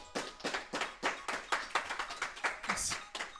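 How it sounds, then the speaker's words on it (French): Clapping from a small group at a trade-show stand interview, with uneven bursts and pulses of handclaps close by, loud and lively, briefly swelling near the end. "Je pense que ça mérite des applaudissements si vous avez eu des labels."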